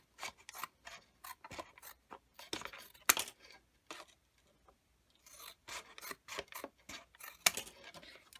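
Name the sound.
scissors cutting plastic plant markers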